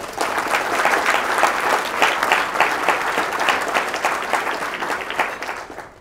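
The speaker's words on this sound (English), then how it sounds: "I want to give you a round of applause." Audience applause at a state of education address, a dense, steady wash of many hands clapping that holds throughout and tapers off at the end.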